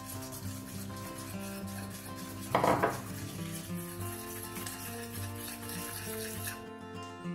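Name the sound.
mixing icing sugar with lemon juice in a bowl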